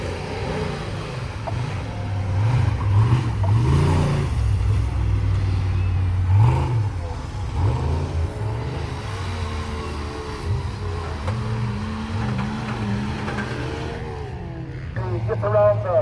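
Prerunner trucks race around a motocross dirt track at Midwest Dirtfest 2019, Valley Motocross, engines revving and roaring continuously, rising and falling as they pass, under an announcer's commentary.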